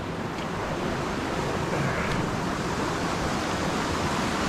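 Steady roar of a rushing snowmelt stream in Glacier National Park, a broad constant wash like a fast stream in full flow, loud and close with no voices.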